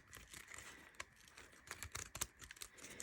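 Paper torn off by hand while decorating a grungy Halloween journal, heard as short dry rips and crinkles in quick bursts, close and fairly quiet.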